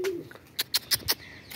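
Several short pigeon calls in a quick series of four or five bursts, close and fairly loud, with no talking.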